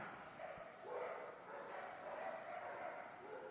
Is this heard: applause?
no